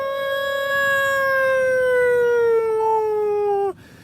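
A human voice imitates an electronic Federal Q-style fire truck siren, holding one long, loud, steady tone that slowly falls in pitch for several seconds before cutting off abruptly.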